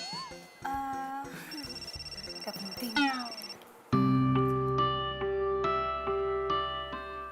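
A phone rings with an incoming call, its bright melodic ringtone repeating clearly and close up. It follows a stretch of mixed tones, and a voice speaks briefly near the start.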